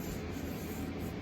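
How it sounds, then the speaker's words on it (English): A purple sponge scuff pad rubs over the first dried coat of lacquer on a handmade ukulele, giving a steady, close, soft abrasive scrubbing that runs evenly throughout. "hit the whole thing anywhere where it's been lacquered with a little scuff pad"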